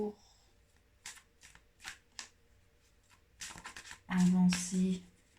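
A deck of oracle cards is shuffled in short crisp bursts, a few soft riffles at first and then a louder run of flicks near the end, with some speech in the background.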